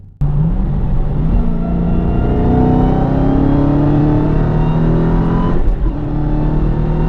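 A Dodge Challenger Hellcat engine roars close and loud, revving with rising pitch sweeps and a deep rumble, then briefly dropping and climbing again near the end.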